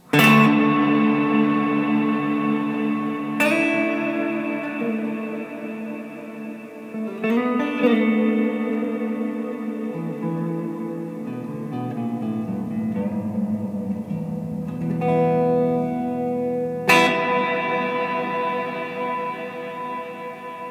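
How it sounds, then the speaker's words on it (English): Distorted guitar chords ring out through a long, washy reverb from a TC Electronic Hall of Fame reverb pedal, each strum swelling and decaying slowly into a lingering tail, with no talking. "you can get a really long reverb using this"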